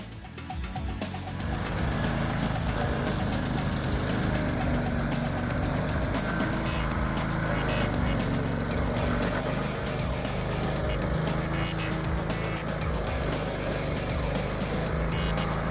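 Homemade stump grinder driven by a pressure washer engine with an M1 Blue Shark wheel, its engine starting up after a second and then running loud and steady at full throttle, a constant rough drone with no talking.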